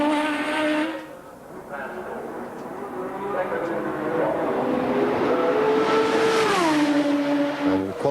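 A BMW turbo-engined Formula 1 car screams through a qualifying lap, its high engine note rising and falling with gear changes and revving, loud and close, while a commentator talks over it.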